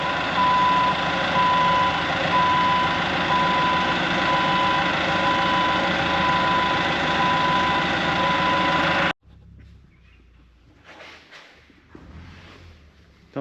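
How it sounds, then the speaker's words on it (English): A forklift's reversing alarm beeps in a steady, evenly spaced series over its running engine while it drags back a new pro-link thumb for a John Deere 350G excavator, then cuts off abruptly, leaving quieter shuffling and clanks. "gonna drag that back with forklift"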